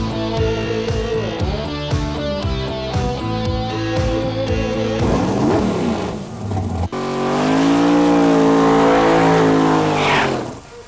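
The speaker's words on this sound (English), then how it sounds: "some of the fastest and baddest cars ever to enter world title competition here today at Gateway prepare to fire it up" Race cars at the 1995 GM Nationals drag racing event at Gateway, loud engines shifting up through the gears in rising, stepped howls, then a sustained roaring blast of acceleration that fades at the end.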